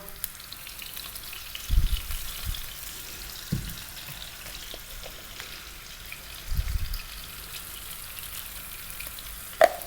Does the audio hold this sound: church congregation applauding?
no